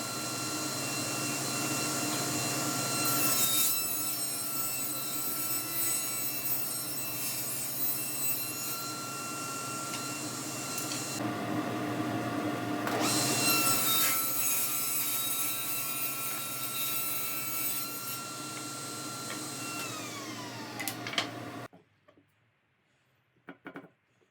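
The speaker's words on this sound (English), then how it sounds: "here I am just cutting up these into some strips" A power saw rip-cuts maple and walnut boards into strips, a loud sustained whine and hum that runs for about twenty seconds with brief dips between passes, then winds down to near silence.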